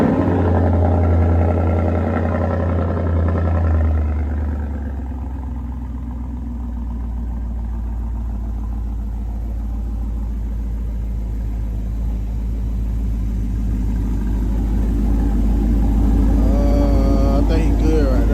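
A 5.0 V8 car engine rumbles steadily at idle, a deep low throb running throughout, near and loud, with voices talking over it at times.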